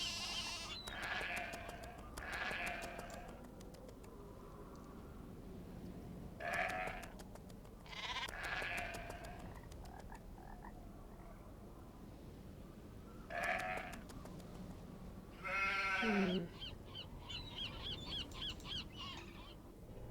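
Sheep in the Nancy Drew video game The Haunting of bleat in several separate calls spread across the stretch, moderately loud against quiet farm ambience, with one long wavering bleat near the end.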